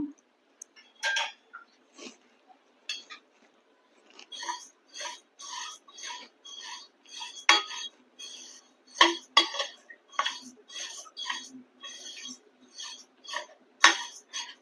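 Coriander seeds dry-frying in a pan for homemade dhanya powder, heard as repeated close scraping and rattling clatters of a spatula against the pan, in irregular bursts after a quiet start, with no talk.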